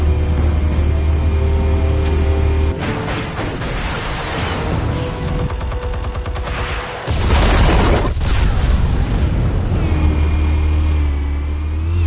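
Explosives detonating in the Batman Telltale Series game: loud, deep booming blasts with a sustained rumbling roar, a sharp burst near the middle, heavy low-end throughout, no talking.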